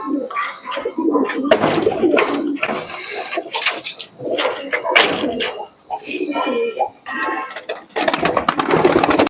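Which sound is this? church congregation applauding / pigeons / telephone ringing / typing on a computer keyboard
pigeons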